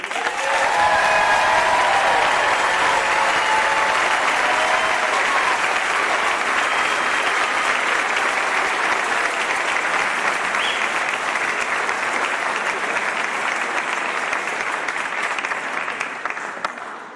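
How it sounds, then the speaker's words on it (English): A large audience applauds at a high school graduation ceremony, producing loud, dense, sustained clapping that holds steady for the whole stretch and only begins to thin at the very end. "Please join me in a round of applause."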